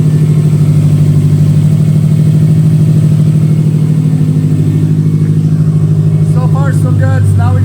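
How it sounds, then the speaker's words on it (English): A Subaru STI engine, just fitted with an oil cooler, idles steadily and loudly up close, a continuous low throbbing drone; a few faint higher chirps and squeaks sound near the end. "So let's fire this thing up and cross our fingers."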